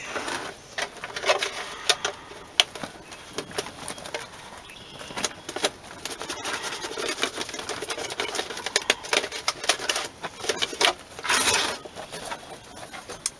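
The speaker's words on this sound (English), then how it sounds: "So I'm going to seal this up once I figure out where I put my tape. And then I'm going to just start taping it." Tape is pulled and pressed around a plastic jug to seal it for seed sowing, heard up close as irregular crackly ripping and rustling bursts, with no talking.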